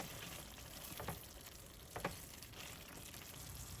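Kebab masala with sliced ginger, green chili and fresh coriander is stirred and mixed in a pan. It gives a steady sizzling hiss, with a few soft scraping strokes near the start and around the middle.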